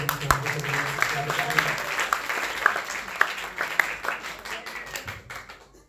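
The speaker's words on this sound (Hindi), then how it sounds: "एक बार जोरदार तालियों से" A crowd at an Arya Samaj annual celebration in Noida applauds steadily for several seconds, a dense patter of clapping with a few louder claps standing out, fading at the end.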